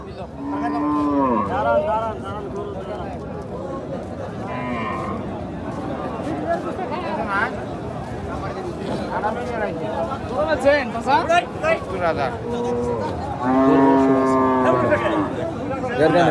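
A cow moos loudly and close at a cattle market, once at the start and again near the end, with people talking and bargaining over prices throughout.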